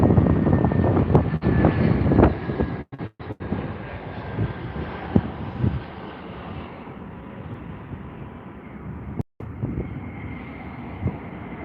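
An Airbus A380 moves on the runway at Heathrow with a broad, rumbling jet roar. Wind buffets the microphone, and the roar stays fairly loud and steady, with a few brief dropouts.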